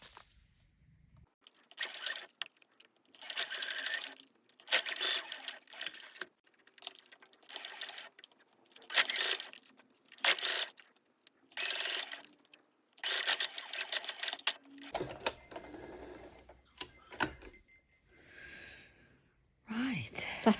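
Sewing machine stitching a velvet pumpkin, running in short repeated bursts with brief pauses between runs, fairly close, followed by softer handling noise near the end.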